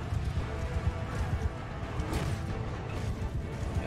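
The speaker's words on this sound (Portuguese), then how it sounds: "Tá botando mais um monte de cavalo aqui, socorro." Cavalry horses gallop in a Mount & Blade 2: Bannerlord siege battle, a dense, steady drumming of hooves mixed with clashing battle noise at moderate level.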